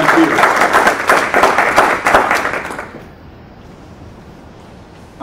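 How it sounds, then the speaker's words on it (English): A conference audience at a peace advocacy and defense reform roundtable gives a loud round of applause for volunteers, dense clapping for about three seconds before fading to quiet room tone. "So please extend a round of applause to all of them."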